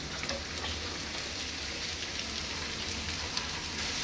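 Three large chopped onions frying in hot oil with garlic for a kalwa oyster masala, giving a steady close hiss and sizzle like rain, even in level with no voices.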